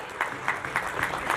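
Audience applause at a Maharaja Ajmeedh Jayanti community event, a steady wash of clapping with a few louder swells, moderately loud throughout the short burst.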